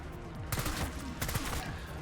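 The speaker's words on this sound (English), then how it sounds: "let's go ahead and see what kind of damage we're looking at right off the rip with the AS Val" AS Val assault rifle firing in Call of Duty Black Ops 6 Zombies, two quick bursts of rapid automatic shots over steady game background noise, fairly quiet.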